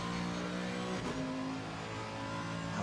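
Racing cars in a sim racing league game at the Zolder circuit, a Ferrari trailing a Mercedes, engines droning steadily and loudly with a rising rev partway through, under faint commentary.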